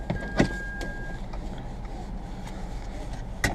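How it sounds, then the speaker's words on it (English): A Hyundai Atos central locking clunks as its doors lock, with a sharp mechanical click at the start and another near the end over quiet car-interior background. "let me not forget to lock the doors"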